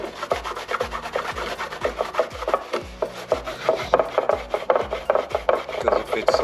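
Quick, rhythmic scrubbing strokes on a mildly surface-rusted part from a 2005 Triumph Bonneville under restoration, each pass a close, dry rasp repeating evenly with no talking.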